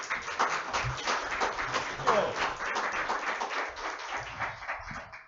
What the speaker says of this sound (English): give a big round of applause to Johnny Hunt from Saginaw, Michigan.